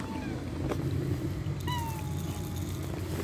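A domestic cat meows a couple of times, close and clear, over steady low background noise with a person talking softly nearby.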